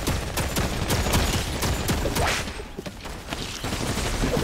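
An automated turret in the Fortnite video game fires rapid bursts, a dense crackling stream of gunshots that runs nearly continuously, loud and close, with a brief lull near the end.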